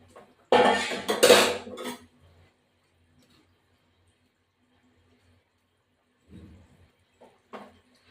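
Pieces of katla fish dropped into a cooking pot of simmering cauliflower and potato, a bright clatter and splash near the start, then quiet, followed by a couple of softer clinks later on.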